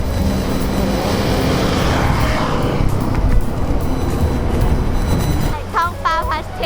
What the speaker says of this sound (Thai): ฟังรถนะ